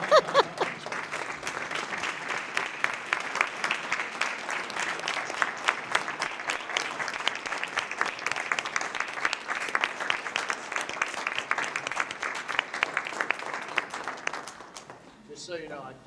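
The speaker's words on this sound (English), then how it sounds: "why don't we have you stand up so we can give you a round of applause" A school board meeting audience gives a long round of applause for a standing student, steady dense clapping that fills the room for about fourteen seconds before tapering off.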